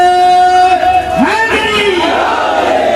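A large crowd at a religious gathering roaring slogans in unison, a loud, close swell of many voices rising to a shouted peak and then sliding down again.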